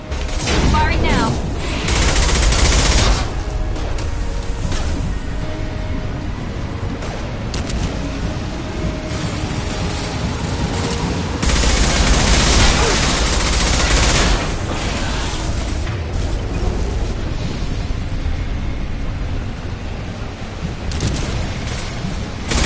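Sustained gunfire in Mass Effect 2 rattles on for over twenty seconds, dense bursts of shots and booming impacts rising and falling in loud waves with no pauses.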